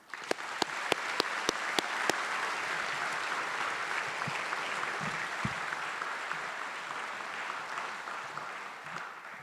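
An audience at a Frederick County Fire Rescue recruit graduation ceremony welcomes a speaker with sustained applause: a few sharp claps at first, then a steady wash of clapping from a large crowd.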